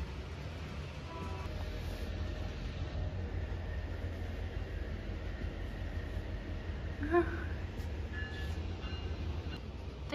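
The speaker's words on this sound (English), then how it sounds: "Here comes the train again." A BNSF freight train rumbles past steadily at a distance, a continuous low roar with faint metallic squeals and a brief louder clank partway through.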